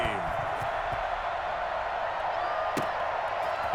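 Steady broadband roar of a stadium crowd in an American football video game, the home team facing the London Bulldogs, holding constant throughout with a brief sharp knock near the end and a commentator's voice over it.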